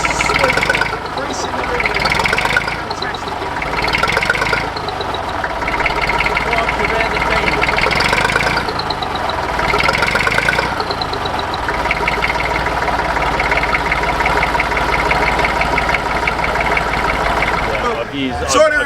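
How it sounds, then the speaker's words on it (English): A vintage tractor at a tractor show runs at a steady, loud idle close by, its engine knocking in an even rhythm throughout, with people talking over it. "Thanks ever so much for showing me your tractor and starting it, Peter."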